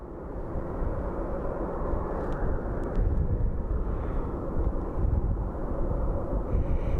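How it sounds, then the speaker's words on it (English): An American Airlines Boeing 737 arrives from St. Louis on approach to Phoenix Sky Harbor, a steady broadband jet roar dominated by low rumble with wind buffeting, continuous and fairly loud throughout. "It's an American Airlines 737 coming in from St. Louis."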